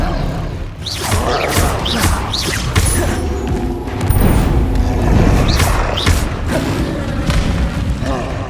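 Booming spell blasts and impacts from the Bombarda explosion spell in the Hogwarts Legacy video game, amid a dense, continuous clatter of combat effects with several sharp bursts, loud and busy throughout.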